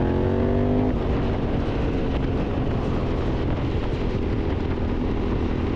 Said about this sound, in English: at least we pop off the exhaust there by it. Pop! Wee burbles, right?